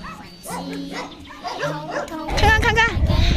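Several dogs at an animal rescue shelter in Golmud yap and bark, the barking growing louder and busier toward the end while someone talks throughout.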